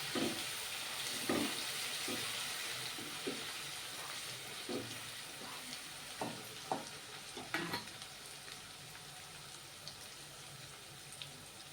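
Ginger, chili and garlic paste sizzles steadily in a hot pan for a masala potato and lentil curry, a soft constant hiss broken by recurring scraping stirs of a spoon, close and fairly quiet.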